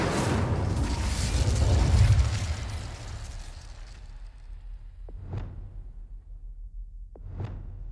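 An Incendio fire spell in Hogwarts Legacy bursts out with a loud, roaring whoosh that fades away, followed by two short, sharp pops of magic.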